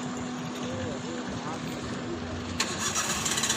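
A car engine cranks and catches during a hill-start driving lesson, settling into a steady mid-pitched idle with a sharper burst near the end, heard under a driving instructor's ongoing talk.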